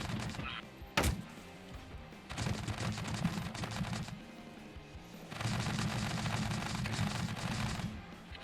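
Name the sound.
grenade launcher fire in video game Scrap Mechanic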